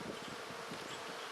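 Honeybees buzz in a spring bee yard, a steady close swarm hum that stays level throughout with no talking.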